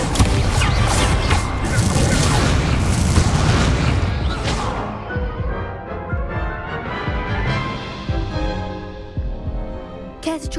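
An Incendio fire spell is cast in the Hogwarts Legacy video game, with loud booming bursts and crashing impacts in quick succession that fade into a rumbling tail, followed by a few lighter pops.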